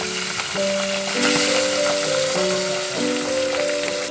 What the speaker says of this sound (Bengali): গরম হয়ে গেছে, মাছটাকে ভেজে নিচ্ছি।